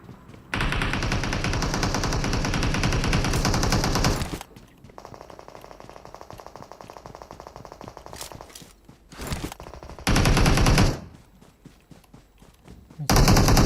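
Gunfire in a shooting video game: long, loud bursts of rapid automatic fire, then a quieter stretch with scattered single shots, then more heavy bursts near the end.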